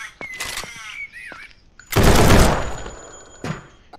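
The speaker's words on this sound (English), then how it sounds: "Let's bring out the M249" M249 machine gun fired in a video game, a loud dense burst in the middle that trails off, with softer clicks and tonal game sounds before it and a short sharp shot near the end.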